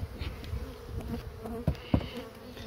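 Honey bees buzz around an open hive during a spring treatment, a steady close drone with a few louder passes and bumps, no talking.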